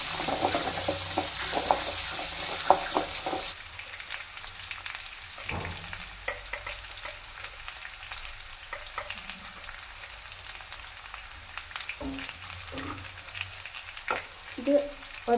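Chopped onion sautéing in a hot pan for lemon rice, a steady frying sizzle with occasional stirring scrapes, loud and close, with no talking.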